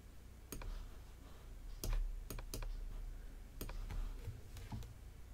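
Several sharp computer mouse clicks, single and in quick pairs, sound close and crisp against quiet room tone while working in Silhouette Studio design software.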